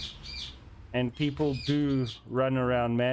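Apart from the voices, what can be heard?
birds chirping in background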